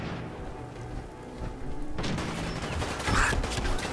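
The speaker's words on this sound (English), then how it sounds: "Let's try the laser pistol." Laser pistol fired in the video game Fallout 4. Dense, rapid bursts of crackling shots start about halfway through and continue over a rumbling game background, with no speech.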